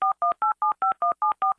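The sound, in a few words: telephone dialing tones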